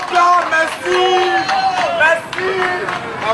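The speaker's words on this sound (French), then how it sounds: "Au passage des soldats, quelques acclamations fusent." A crowd cheers as soldiers pass by, with voices shouting and calling out in overlapping bursts and a spoken voice running over them throughout.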